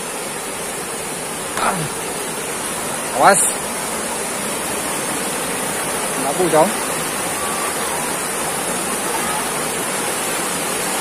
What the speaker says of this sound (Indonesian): Kita melintasi sungai ini.